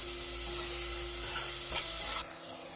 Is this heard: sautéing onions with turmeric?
yes